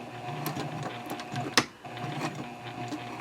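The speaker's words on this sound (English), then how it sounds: "we'll start taking a few stitches forward" A sewing machine stitching a short run forward, steady mechanical whirring and rapid ticking with one sharper clunk partway through, close and clear with no talking.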